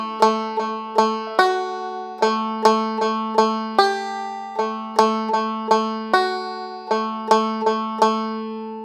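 Irish banjo picks The Harvest Home, playing bright, ringing plucked notes in a steady lilting rhythm with quick triplet trebles on repeated notes. Each note decays quickly, close and clear, with no talking.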